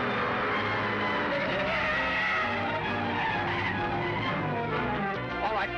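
Car tires skidding and squealing during a chase, loud and continuous with the roar of a speeding engine, tire screeches rising and falling over several seconds.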